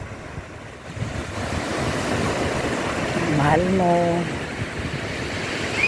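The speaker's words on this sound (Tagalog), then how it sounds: "Pakinggan na lang natin ang hampas ng alon." Ocean surf rolls and washes steadily onto a beach, with wind noise buffeting the microphone and a brief voice speaking partway through.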